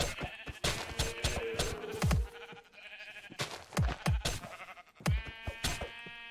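Sheep bleat in Minecraft with the RLCraft mod pack, several sharp, close bleats coming in quick separate bursts with short quiet gaps between them.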